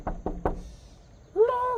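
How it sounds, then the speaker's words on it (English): Three firm, close knocks on a door in an outdoor setting, then a pause before a voice speaks. "Knock on the door, babe."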